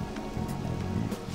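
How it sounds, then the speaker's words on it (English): Steady rain falling in the video game Persona 5, a constant soft hiss of drops on surfaces with no voices over it. "This rain ain't too bad."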